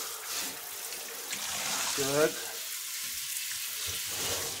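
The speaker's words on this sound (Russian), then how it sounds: "теперь аккуратно все это смываем под душем" A car battery is rinsed under a bathroom shower: a steady hiss of spraying water runs throughout, with a brief spoken word partway through.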